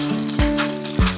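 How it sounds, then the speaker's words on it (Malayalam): Coconut oil in a hot pan for a fish curry, a close, loud continuous sizzle with a couple of sharp sweeping bursts as it spatters. "അങ്ങനെ നമ്മുടെ ചട്ടി ചൂടായിട്ട് നമുക്ക് വെളിച്ചെണ്ണ ഒഴിച്ചു കൊടുക്കാം."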